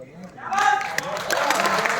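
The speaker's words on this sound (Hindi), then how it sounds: "मेरी बातों पे तालियां बजा रहे हो" An audience at a motivational talk breaks into applause of scattered claps that build into steady clapping, with a voice heard just before it starts.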